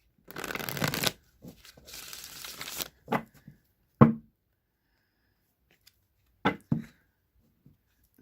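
A tarot card deck being shuffled in close, crisp riffling bursts, followed by a few sharp taps and knocks of the cards against a table, with quiet pauses between.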